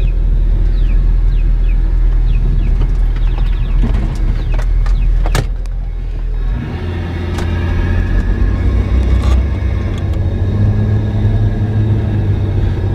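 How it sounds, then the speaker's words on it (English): Spectre aftermarket air intake on a Jeep Wrangler pulling air while driving: a steady low engine rumble with a hollow suction hiss. It eases briefly around the midpoint, then settles back into a continuous drone, with scattered clicks early on. "You can still hear the suction."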